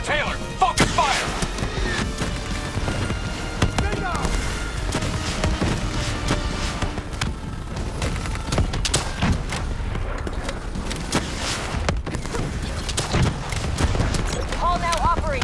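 Dense gunfire rattles almost nonstop in a Call of Duty Black Ops 3 battle against the Manticore, loud bursts and booms layered over music and radio-style voices talking.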